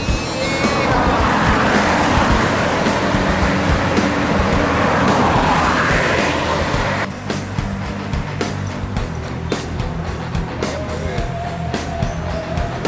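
A new bus from a West Sumatra operator running along a road near Solok, its engine and tyre roar loud and close before dropping slightly as it passes, with steady traffic noise continuing after.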